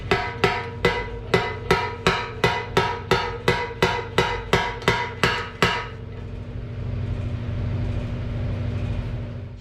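Steady hammer blows bump dents out of the steel gas tank of a 1974 Honda XL250 motorcycle, about fourteen sharp, evenly spaced metallic strikes close by, then stopping into a low steady hum.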